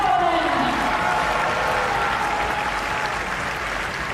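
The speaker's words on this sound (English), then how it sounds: "That's a huge cheer, as you'd expect" A stadium crowd at the European Athletics U20 Championships in Tampere cheers and applauds loudly during the women's 400m hurdles semifinals, a broad sustained roar filling the whole moment.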